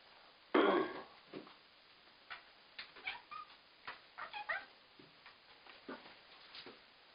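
Siamese mix cats tussling in a bathtub: a sharp yowl early on, then scattered short meows, scuffles and thumps echoing off the tub, fairly quiet and close.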